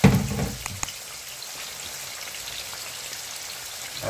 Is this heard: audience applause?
no